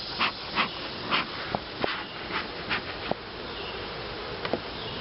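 Honey bees buzz around an open hive during a backyard inspection. Several bees zip close past the listener in short rising and falling passes over a constant hissing hum of the colony.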